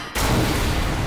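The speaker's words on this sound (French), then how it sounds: "Aïe. Explosion." A sudden loud explosion in the video game Dead Island 2 bursts in after a brief quiet moment, a dense broadband blast that fills the short clip.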